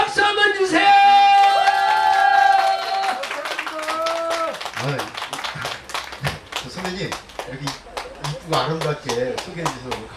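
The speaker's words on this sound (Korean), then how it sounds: "박수 한번 주세요." Audience clapping at a Korean pumba performance: a sustained tonal musical phrase comes first, then loud, fairly regular claps ring out close by for several seconds, mixed with voices.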